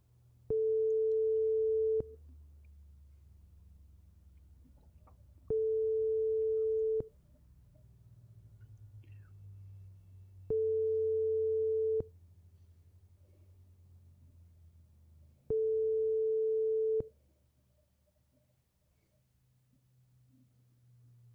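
Phone call tone inside a video game roleplay: four long steady beeps, each about one and a half seconds, evenly spaced by roughly three-second gaps, clear over a faint low background rumble.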